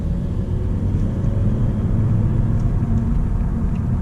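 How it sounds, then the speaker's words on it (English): 2022 Honda Civic RS accelerating in sport mode, a steady low engine and road rumble from inside the cabin, fairly loud and even throughout with no talking. "Let's go back to sport mode and try just a little acceleration here"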